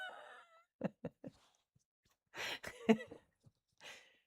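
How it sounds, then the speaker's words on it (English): An angry bird right outside a window gives a series of short, sharp squawks and harsh calls in scattered bursts, with a louder cluster near the middle, fairly close, against a quiet background with no talk. "I think there's a bird, like an angry bird, like right outside my window"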